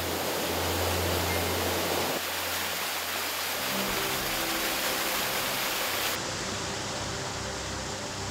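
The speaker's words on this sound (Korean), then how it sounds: "물이 푸르고 아름다운 함양 용추 폭포." Yongchu waterfall in Hamyang pours in a dense, continuous rushing roar of falling water, loud and unbroken throughout with no voices.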